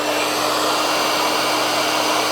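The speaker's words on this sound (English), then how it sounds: "Let's turn the hair dryer on." A hair dryer runs continuously on a portable solar generator's power supply, a loud, steady airy roar with an even hum beneath and no pauses or talking.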